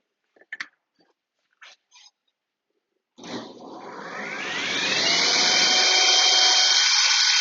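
A Shopsmith Miter-Pro saw spins up and cuts a miter in wood, rising to a loud sustained whine after a few quiet clicks and handling knocks, close with no talk.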